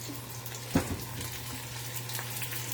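Mushrooms sautéing in a pan with shallots, a soft steady sizzle under a low hum, with one clattering drop near the start as a piece goes in.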